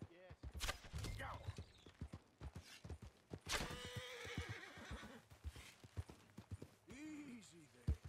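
A horse in Red Dead Redemption 2 neighs and whinnies loudly several times while hooves clop nearby, with voices talking over the animal.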